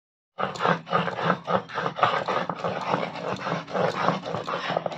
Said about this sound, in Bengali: এখানে জাম পাতা ভেজে নিয়েছিলাম, রসুন কাঁচা লঙ্কা আর কালো জিরা দিয়ে, এটা এখন বেটে নেব।